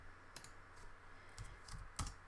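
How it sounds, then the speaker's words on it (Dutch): Soft, quiet keystrokes tapping on a computer keyboard in a few irregular bursts, close by and with no talking. "En je hoort me typen."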